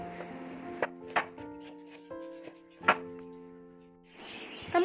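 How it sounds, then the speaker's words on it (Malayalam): An onion is cut small with a knife for a Malabar-style chicken dish: a few sharp, irregular chopping taps over a steady background music bed. "സവോള നമ്മൾ ചെറുതായിട്ട് കട്ട് ചെയ്തെടുക്കണം"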